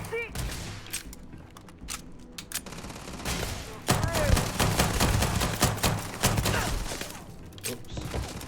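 Dense bursts of gunfire in the sci-fi game Starfield crackle and pop in rapid volleys, loud and near, with a swelling fusillade midway, while a voice shouts commands over the shooting.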